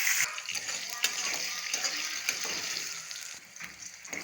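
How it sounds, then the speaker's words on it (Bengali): Bay leaf, dried chili and five-spice seeds hit hot oil with a bright, steady sizzle and crackle, close by, with faint kitchen clatter underneath. "তেজপাতা, শুকনো লঙ্কা, পাঁচ ফোড়ন, রাঁধুনি ফোড়নে দিয়ে দেবো"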